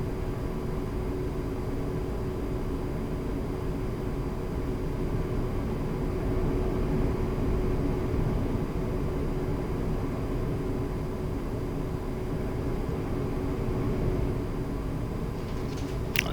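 A-10C II jet aircraft taxiing in a flight simulator game, a steady, moderately quiet engine drone and hum with a constant tonal whine, continuous and unchanging, no talk, ending in a brief click.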